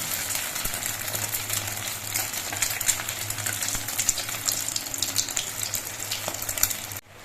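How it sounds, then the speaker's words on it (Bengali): A slice of bread dipped in egg mixture fries in hot oil on a gas stove, giving a steady soft sizzle and bubbling that runs throughout at moderate distance with no talking. "আবার একটা পাউরুটি নিয়ে ডিমের এই মিশ্রণের মধ্যে ডুবিয়ে নিয়ে আবার তেলের মধ্যে ডুবিয়ে দিচ্ছি"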